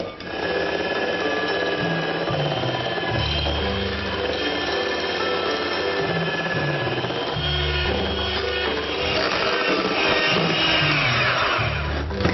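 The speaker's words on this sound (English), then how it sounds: "We beat the whites on their own until you can hold the bowl upside down without them falling out, and then you beat in the caster sugar." An electric mixer whips egg whites with caster sugar for meringue in an Île flottante: a steady, loud motor whir runs throughout with a shifting, churning pitch, and nobody speaks.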